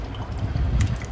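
Water runs into a bottle in a home kitchen as a brief, close, low gurgling rush of liquid filling the container, heard alone.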